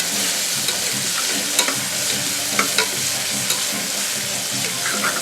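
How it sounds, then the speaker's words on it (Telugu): Ginger-garlic paste and tomato puree sizzle steadily in a hot pan for tomato biryani, loud and close, with a spoon scraping and stirring through it in light periodic knocks. "అరగంట పోకుండా జస్ట్ మెల్లిగా అట్లా కలుపుకుంటూ పచ్చివాసన అంతా పోయేంత వరకు కలుపుకోవాలి"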